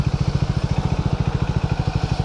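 A motorcycle engine idles close by while the bike is parked, giving a steady, rapid, even thumping pulse with a mechanical clatter, and no voices.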